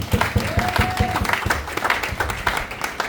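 A church congregation applauds the Lord, steady rhythmic clapping from a crowd filling the room, loud and close, with voices faintly mixed in underneath.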